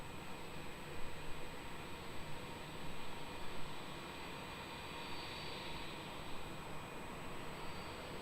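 Qantas airliner arriving from Adelaide at Melbourne Airport, a steady, broad engine roar heard from a distance with faint swells, continuous under airport ambience with no talking.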